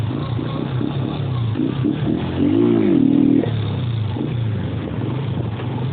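A motorcycle engine with a manual gearbox runs steadily up close, then revs sharply higher for about a second as too much throttle is applied before dropping back to a steady rumble.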